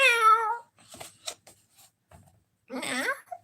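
A voice imitates a cat's meow, saying hello to a cat called Kitty. Several drawn-out meow calls come close and clear, with short pauses between them and some quieter sounds in the gaps.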